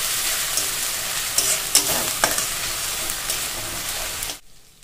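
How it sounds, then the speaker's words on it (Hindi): Garlic paste and ground onion masala frying in a hot pan, a steady loud sizzle with a few stirring scrapes, cutting off abruptly near the end. "अब इसे हमें अच्छी तरह से भूनना है।"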